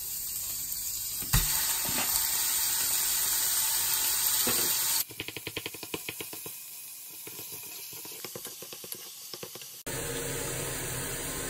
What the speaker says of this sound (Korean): 고기를 넣을게요.